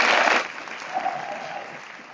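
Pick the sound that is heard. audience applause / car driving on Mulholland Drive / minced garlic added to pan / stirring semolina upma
audience applause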